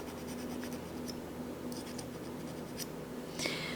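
A fine Swiss cut number 4 hand file scrapes a metal bezel for a jewelry stacker ring in short, soft, close strokes against a quiet background hum, with no talk.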